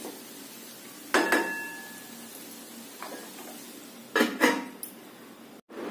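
Utensils clink and scrape against a pan while a carrot vegetable mixture is stirred, a sharp metallic scrape near the start and a cluster of clatters later, over a low steady background hum.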